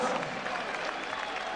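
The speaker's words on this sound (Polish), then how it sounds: "Brawa dla Jana Zaweka." Crowd applause in an arena after a boxing bout, a dense, diffuse wash of clapping heard from a distance, steady and moderate throughout.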